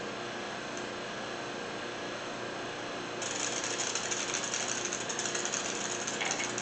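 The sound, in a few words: air coming out of engine oil system during priming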